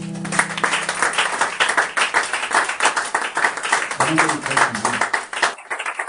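A church congregation claps in a brisk, steady rhythm, loud and close, while a voice calls out over the clapping throughout.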